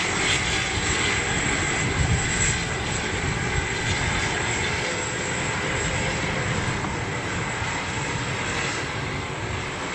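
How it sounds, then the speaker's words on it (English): Jet aircraft auxiliary power unit running, a steady broadband roar with a sustained high-pitched whine above it, constant and fairly loud throughout with no talk. "APU making a lovely noise."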